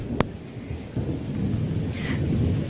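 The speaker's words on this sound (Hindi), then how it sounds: "यहाँ इतनी तेज बारिश हो रही है" Heavy rain pours steadily at a Ganga river ghat in Patna during flooding, with a sharp thunder crack near the start and a rumbling roll later, all close and loud with no speech.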